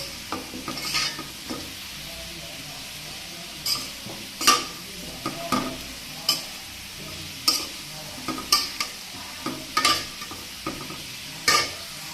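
Vegetables frying in a pan for a vegetarian dish, a soft steady sizzle under repeated clinks and scrapes of a spatula stirring against the metal, close and moderately quiet, without speech.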